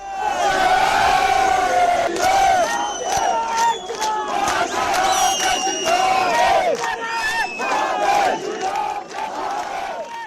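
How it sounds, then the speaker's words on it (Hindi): A large crowd at a protest over a mosque in Shimla, Himachal Pradesh, chants Jai Shri Ram slogans in loud, rhythmic rising and falling waves of many voices, the shouts overlapping and swelling repeatedly. "लोग जय श्री राम के नारे लगाते भी सुनाई थी।"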